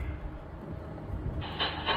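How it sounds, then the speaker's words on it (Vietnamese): An electronic household device plays a recorded train sound effect, a steady rumbling roll with a brighter hiss rising near the end, heard close and continuous with no talk. "Xe lửa"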